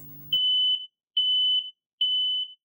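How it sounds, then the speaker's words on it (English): A smoke alarm gives three loud, evenly spaced electronic beeps, each a steady high tone lasting under half a second, with nothing else heard between them. "a smoke alarm sounds like this"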